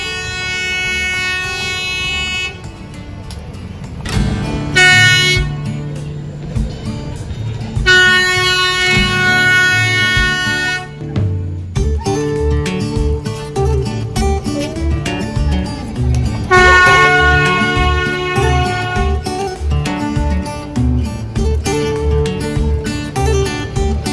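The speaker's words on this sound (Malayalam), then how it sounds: "നമുക്കുള്ള ട്രെയിൻ ഇവിടുന്ന് വരുന്നുണ്ട്" Ooty hill train pulling into a station as two trains arrive together, with loud rumbling carriages and repeated horn toots sounding close by over roughly twenty seconds, no speech heard.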